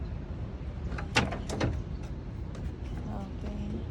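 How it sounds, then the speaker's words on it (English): Metal entry steps of a 2023 Grand Design RV camper trailer rattle and clank as they roll and fold in, giving a few sharp bangs in quick succession amid faint background noise. "Your steps, they roll and fold in."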